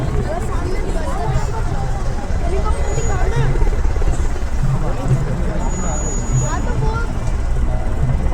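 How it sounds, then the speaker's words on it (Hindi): A helicopter drones steadily overhead at the Republic Day parade on Kartavya Path, a dense low rumble of rotor noise mixed with a crowd's murmur and background commotion. "हेलीकॉप्टर भी आ गए।"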